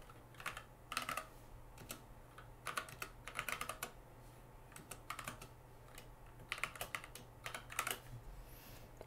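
Typing on a Magicforce 49 40% mechanical keyboard: quiet bursts of clacky keystrokes in irregular clusters separated by short pauses, heard close and alone over a faint steady hum.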